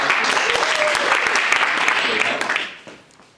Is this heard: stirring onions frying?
no